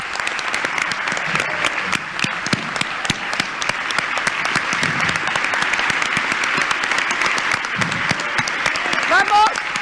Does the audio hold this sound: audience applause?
yes